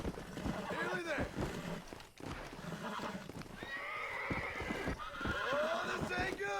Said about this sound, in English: Come on, I want this horse.